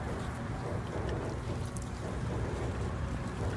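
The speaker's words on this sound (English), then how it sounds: "and then we do a final rinse" A water-fed pole giving a window its final rinse: a steady broadband spray and patter of water against glass and frame, continuous and moderately quiet throughout.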